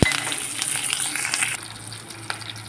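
Loud, crackling sizzle of green chillies and curry leaves hitting hot oil after mustard seeds pop, close up, then settling into a softer steady fry.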